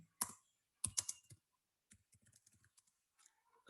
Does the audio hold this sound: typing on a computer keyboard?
yes